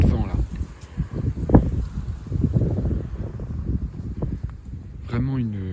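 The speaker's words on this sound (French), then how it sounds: "C'est littéralement un coup de vent là." A strong bise wind blows at around 75 km/h, roaring and buffeting the microphone in continuous gusts, with a brief voice near the end.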